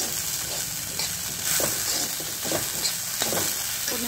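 Bitter gourd cooked without onion is stirred in a pan with turmeric, coriander and red chilli powder, a continuous soft sizzle carrying repeated scraping strokes of a spoon at an unhurried, even rhythm.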